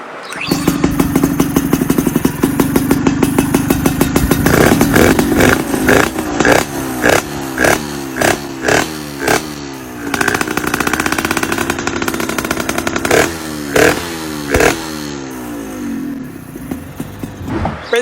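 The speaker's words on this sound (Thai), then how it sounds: "เดี๋ยวไปชมวิดีโอเสียงติดเครื่อง" A small two-stroke Nova RS Super motorcycle engine sputters to life, then runs with a rough, rapid popping idle and repeated throttle blips, loud and close.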